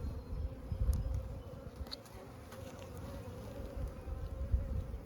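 Honey bees buzz while a new beehive is set up with frames of bees, brood and honey: a continuous low hum of many bees, fairly close, with individual buzzes flitting past.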